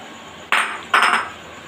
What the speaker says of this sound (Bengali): আর এবার দিয়ে দেবো ভেজে রাখা মাছটা উপর থেকে।